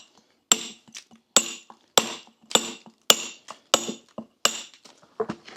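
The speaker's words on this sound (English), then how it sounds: "See how I'm choking the hammer as well, because I only want to take little bits off" A choked-up hammer chipping small bits off reclaimed stone while dressing it, eight or nine sharp, evenly spaced clinking strikes, close and loud with short ringing decays, and no talking.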